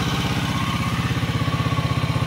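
A Skygo King 150cc motorcycle engine held at a steady fast idle around 2000 RPM during carburetor tuning, a loud, close, even chugging pulse with mechanical clatter and no talk.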